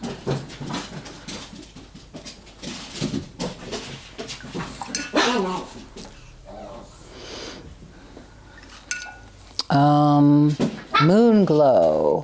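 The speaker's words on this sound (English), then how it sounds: "Uh-oh, the dogs are playing." Dogs playing indoors, with scattered snorts and scuffles under ongoing talk, followed near the end by a couple of louder, drawn-out growly vocal bursts close by.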